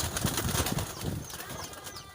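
Pet pigeons on a farm flutter in and gather around their keeper, with a burst of wing flapping near the start, then softer rustling and faint coos close by.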